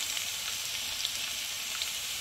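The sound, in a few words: dried chilies and bay leaves frying in mustard oil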